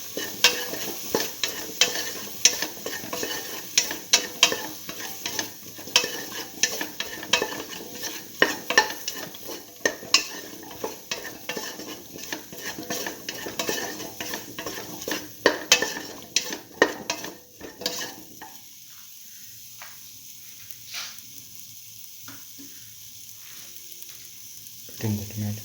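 Okra and turmeric sautéing in a pan, a steady sizzle broken by repeated scrapes and clacks of a spoon stirring against the metal, close and busy for most of the stretch before the frying dies down to a quiet hiss near the end.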